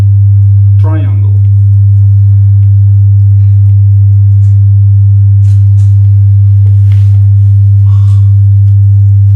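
A loud, steady synthesizer triangle-wave drone at the low pitch of G2 holds unbroken throughout, with faint clicks and a brief quiet voice near the start.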